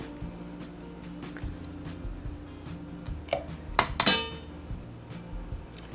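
A fork clinks against a metal pot while flour dumplings are shaped for a Danish meatball and dumpling soup; a few sharp, close metallic taps cluster together over a low steady background hum.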